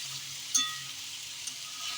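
Puffed fritters (pudli) fry in oil with a steady high hiss, with a single light clink of a utensil partway through.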